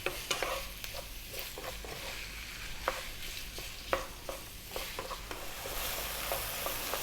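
Ground beef being broken up and stirred in a pan for a baked meat sauce, with steady sizzling under repeated scraping and tapping of a utensil against the pan, close and continuous.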